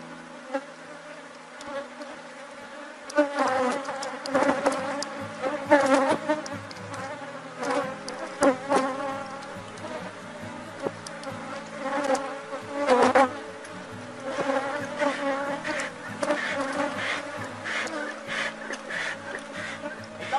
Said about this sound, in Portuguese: Isso acaba irritando também as abelhas